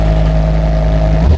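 A race car engine with a flat plane crank, built for drag racing in the Automation car company tycoon game, holds a loud, steady high rev with a buzzing tone, then briefly dips and surges near the end.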